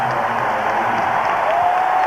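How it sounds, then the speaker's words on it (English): A basketball arena crowd at a 1988 NBA playoff game roars and applauds in a steady, dense wash of noise, loud and sustained throughout with no distinct voices standing out. "The crowd starting to get into this game for the first time."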